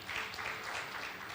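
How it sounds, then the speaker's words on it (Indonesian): Sunday church congregation clapping for God during a sermon, a faint, distant-sounding, even wash of applause with no talk over it. "Tepuk tangan buat Tuhan."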